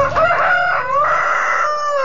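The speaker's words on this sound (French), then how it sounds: "Oh, puis il y a aussi des coqs." Roosters crowing among a flock of about a hundred free-range hens of mixed breeds, pink, black and grey, on an outdoor farm; a loud, close, sustained cock-a-doodle-doo with overlapping harmonic calls, no talking over it.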